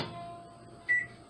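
A single short, clear electronic beep from a microwave oven, following a faint hum in a quiet room.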